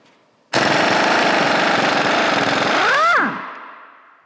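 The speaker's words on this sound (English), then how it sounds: "obviously no big deal for the impact gun" An impact gun hammers out a shock bolt on a Harley Softail, one loud sustained rattling burst close by that ends with a falling whine as it spins down.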